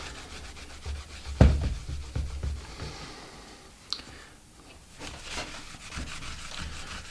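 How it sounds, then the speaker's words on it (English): A cloth rubs cleaner over the soleplate of a cold clothes iron dirtied with yellow-brown adhesive glue and black spots, giving close, soft scrubbing strokes in uneven bursts with a few sharper scuffs and no talking. "And you can see I'm just rubbing."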